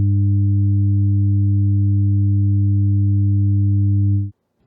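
A steady electronic test tone with an added third harmonic holds at constant loudness for about four seconds, then cuts off abruptly into near silence.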